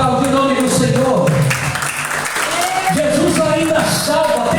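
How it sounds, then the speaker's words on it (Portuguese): A church congregation claps steadily in praise, a continuous wash of applause beneath a preacher's loud, sustained, sing-song voice. "Você pode aplaudir o nome do Senhor."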